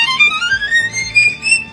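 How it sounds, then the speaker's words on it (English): A violin line climbs steadily up the fingerboard in quick notes, then drops back down, heard clearly and close over soft accompaniment. "It goes all the way up, the fingerboard, and then he drops all the way down here."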